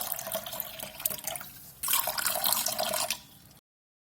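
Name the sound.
pouring hot porridge into bowls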